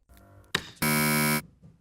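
A short blaring game show buzzer sounds once for about half a second, loud and harsh, after a brief click and some faint background noise.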